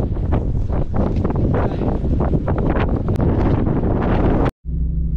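Strong, cold wind in Morocco buffets the microphone in a loud, continuous roar, then cuts off abruptly near the end.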